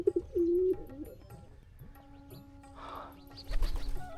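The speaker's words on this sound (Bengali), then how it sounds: "ঘরের ভেতর কবুতর" Pigeons coo indoors inside a village house on a river char in Bangladesh, with a close, low rolling call early on, a steady tone, then rustling and a burst of wing flutter at the end.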